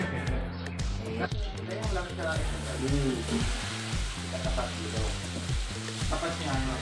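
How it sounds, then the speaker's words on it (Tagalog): Seasonings sauté in hot cooking oil at a feeding program, a loud, continuous sizzle and crackle close by, with a person talking over it. "Gigisa na natin to guys, itong mga pang ano natin, pang rekado. Mainit na yung mantika."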